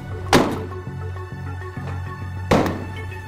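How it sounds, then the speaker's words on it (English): Two solid thunks of a 2000 Ford F350 dually utility-body truck door closing, close and loud, separated by about two seconds with softer metallic clicks of latches between them. "The doors close well and stay closed."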